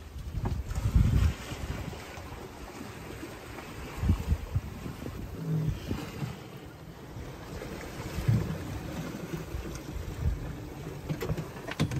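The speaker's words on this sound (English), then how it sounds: "the wind's gotten to about 20 knots out there. We've been surfing at 8 to 9 knots down these waves" A sailboat surfing down waves in roughly 20-knot wind on a long solo passage toward Torrevieja, with loud wind buffeting, rushing water against the hull and periodic surges as waves pass.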